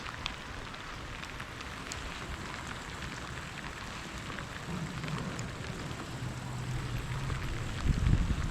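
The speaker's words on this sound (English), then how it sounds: "The weather that day was the worst of the entire trip, and one of the only 2 rainy days." Steady rain falls during a boat trip on the Danube past Riedlingen, a dense continuous hiss of drops with a low engine hum rising faintly toward the end, no voices.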